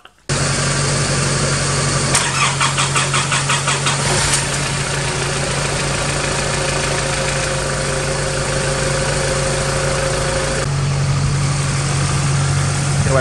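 A Nissan Navara D22 with ZD30 diesel engine cranking and catching, then settling into a steady loud idle with a constant drone and a brief rhythmic clatter early on.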